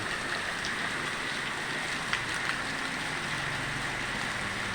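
Steady rain falls over a flooded village and rice fields, producing an even, moderate hiss with faint scattered drips and no voices.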